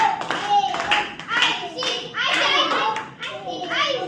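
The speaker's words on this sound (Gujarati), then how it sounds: "અરે આવી જાય એના માટે તાળી તો પાડો યાર." Children clap for a classmate during a school biscuit game, scattered bursts of clapping mixed with lively kids' voices and chatter close by.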